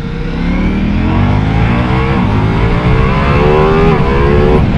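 A Ducati Multistrada V4S motorcycle accelerating hard in sport mode. The engine note climbs steadily through the gears in one continuous, loud, close roar with wind rush and no speech.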